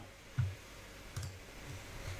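A computer mouse on an export menu gives a few sharp, close clicks spaced irregularly against a quiet room background.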